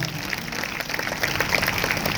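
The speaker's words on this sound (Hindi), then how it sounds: "अगर आया है तो जोरदार तालियां बजाएंगे।" Applause from a church congregation at a Sunday service in a Hindi-speaking setting, a steady patter of many hands clapping at moderate distance throughout, with no talk over it.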